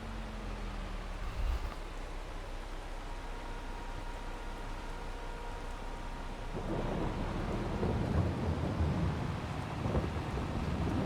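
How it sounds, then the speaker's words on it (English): Steady rain with rolling thunder in the farming game Farming Simulator 22, a continuous wash of downpour with a low rumble early on, growing heavier and denser in the second half, with no voices. "The rain should have stopped, but it hasn't."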